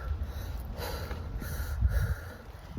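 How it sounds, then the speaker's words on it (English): Deep, forceful breaths taken outdoors just before getting into a cold plunge, a few heavy snorting inhales and exhales close by over wind noise. "I start taking the breaths"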